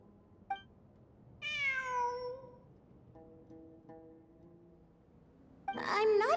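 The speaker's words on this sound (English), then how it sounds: "It really is a cat." A cat in the video game Genshin Impact gives a drawn-out, clear meow, then shorter mews follow, with a louder, busier burst of game sound at the end.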